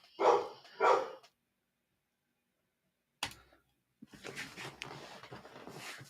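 An excited dog at home gives two quick close barks, then falls quiet, then lets out a sharp yelp followed by a longer stretch of rough barking and yipping.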